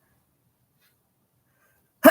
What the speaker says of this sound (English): Don't tell anyone I sneezed.